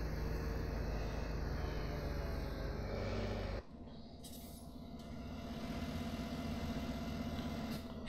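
A tractor engine idles steadily in Farming Simulator 2017, a low continuous rumble that cuts off abruptly partway through, then a quieter engine drone returns and slowly builds, with no talking.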